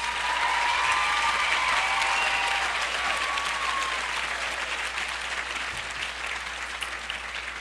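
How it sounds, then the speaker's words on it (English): Audience applause for graduates at a college graduation ceremony, a sustained wash of many hands clapping that holds steady and tapers slightly, heard from a moderate distance without talk. "To the graduates, congratulations. Give yourself a round of applause."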